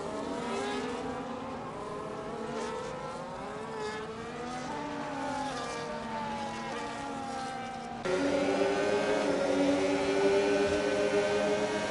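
Racing car engines in a Monaco race within a racing video game, a steady multi-car drone of harmonic engine whine that shifts pitch as cars accelerate and downshift, growing louder near the end, no talk.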